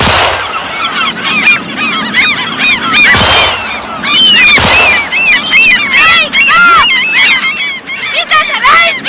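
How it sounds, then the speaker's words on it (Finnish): A dense flock of geese honks continuously and loudly outdoors, overlapping calls packed together with a couple of sharp bangs like gunshots cutting through, close and busy for the whole stretch. "Anna niiden lintujen olla!"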